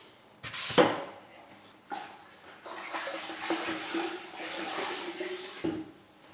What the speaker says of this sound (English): This sponge is not saturated, is wringed out very well, so that only the minimal moisture is being applied here